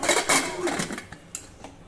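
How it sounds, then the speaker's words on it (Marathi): A pressure cooker holding leafy greens, whole peanuts and water has its metal lid closed, giving a few sharp close metallic clanks and scrapes over about two seconds, then quieter clicks. "कुकरचं झाकण बंद करू"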